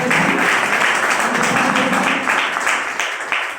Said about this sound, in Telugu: ఒకసారి great round of applause Gautam Bali sir.